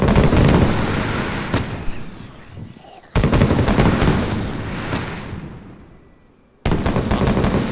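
Fireworks burst in the DayZ video game, loud cracking booms arriving in sharp clusters with crackling tails that fade before the next volley, close and dominating.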